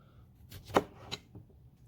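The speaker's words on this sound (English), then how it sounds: "chopping up some tomatoes" A knife chops tomatoes on a cutting board outdoors at a ranch: two or three quiet, separate cuts, faint and close by.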